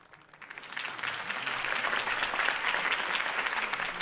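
Applause in a video game swells from quiet to a full, steady clapping of a large crowd at a political campaign speech that continues throughout.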